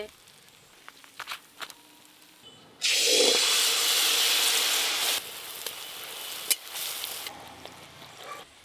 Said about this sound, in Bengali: বেশ তাড়াতাড়ি কিন্তু ভাজা পিঠেগুলো হয়ে যাচ্ছে।